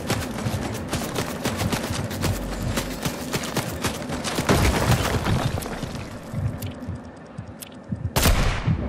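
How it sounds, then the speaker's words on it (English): Continuous gunfire in a Fortnite match rattles through a dense battle mix, with repeated sharp shots and bursts, some near and loud, one heavy blast near the end. "they shooting at me"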